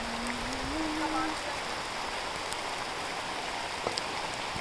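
Rain falls steadily on surfaces outdoors, a soft even patter and hiss with a brief rising hum near the start and a faint click later.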